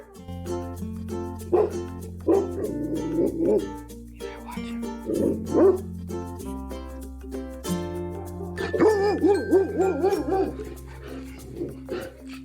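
A dog whines in a series of high, wavering whimpers that rise and fall over steady background music, some cries drawn out and others short.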